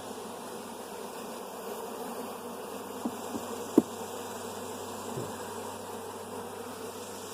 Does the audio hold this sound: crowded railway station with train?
no